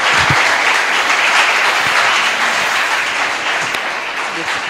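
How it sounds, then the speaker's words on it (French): A large audience at the Voix des Jeunes Côte d'Ivoire final claps in steady, loud applause to greet the jury, a dense continuous roar that eases only slightly toward the end. "Je demande encore une fois vos applaudissements pour les saluer."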